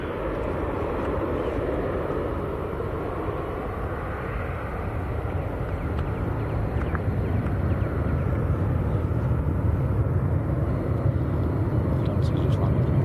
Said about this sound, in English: Lufthansa's just landed.